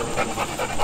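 A Gordon Setter bird dog pants in quick, rhythmic breaths close by, with no voices over it.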